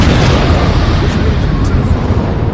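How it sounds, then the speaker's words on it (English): A loud explosion sound effect rumbles on as a dense, sustained roar across the whole stretch, with no clear talk over it. "I'm gonna let the explosion finish"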